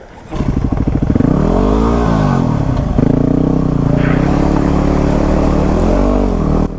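A Yamaha WR250R dual-sport motorcycle rides fast along a road, its engine loud and close as it revs through rising and falling pitch sweeps, accelerating and shifting steadily with wind rush throughout.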